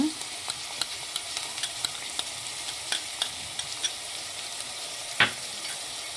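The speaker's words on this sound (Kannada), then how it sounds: "ಒಂದ್ಸಲ ನೀಟಾಗಿ ಮಿಕ್ಸ್ ಮಾಡಿ ಒಂದು ಮೂರು ನಾಲ್ಕು ನಿಮಿಷ ತರಕಾರಿನ ಎಣ್ಣೆಲೆ ಬೇಯಿಸಿ" Mixed vegetables stir-frying in oil for a hotel-style vegetable pulao, a continuous sizzle broken by repeated scraping stirs and one louder clatter near the end, with no voices.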